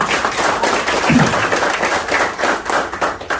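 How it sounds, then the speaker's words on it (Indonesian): An audience claps and applauds during a sales presentation, a dense, lively burst of many hands sustained for a few seconds with slight swells and one heavier thump, no speech over it. "Tepuk tangan buat ibunya ya"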